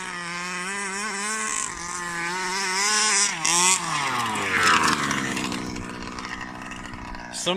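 A Rovan Baja RC car, a large gas-powered off-road model, runs with a loud, rising and falling engine drone and a rough, grinding undertone that may point to a failing bearing, heard close and steady throughout.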